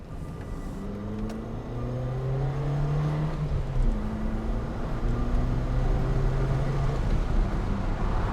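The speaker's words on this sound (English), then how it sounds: "the tiddler we're driving today, the 44 brake horsepower Fiesta 950" A 44 bhp 950 cc engine in a Mk1 Ford Fiesta drones steadily as the small car is driven, with a low, even hum that swells slightly as it pulls along and holds nearly constant throughout.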